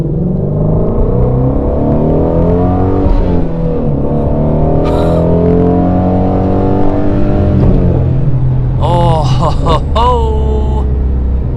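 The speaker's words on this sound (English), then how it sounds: "So I have this sport exhaust on." A Ford Mustang Shelby GT350 with a sport exhaust revs hard and pulls through the gears, a loud, close, continuous engine drone whose pitch climbs and falls, with blips near the end.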